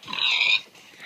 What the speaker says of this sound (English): I killed a pig!